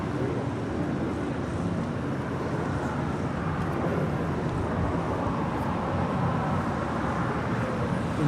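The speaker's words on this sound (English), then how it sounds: "Delta 757 off to San Diego" A Delta Boeing 757 jet departing LAX sends a steady, broadband roar that holds at moderate level, distant rather than close, with no talk over it.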